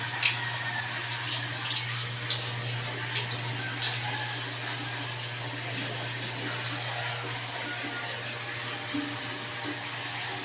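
Water sprays steadily from a shower over a constant low hum, running without pause.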